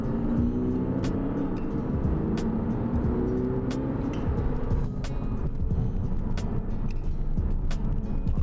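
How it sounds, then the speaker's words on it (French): An Audi A6 Competition with a 326 hp V6 engine hums steadily while driving, a continuous low engine and road drone with light clicks over it, with no talking. "une bonne tenue de route, un bruit assez agréable, un V6 bien"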